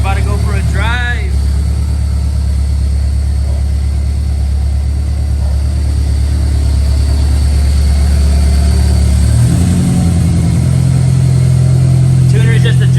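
Supercharged AP2 Honda S2000 running while being tuned: a steady, loud idle drones throughout, with the pitch stepping up slightly near the end, and people talking briefly over it.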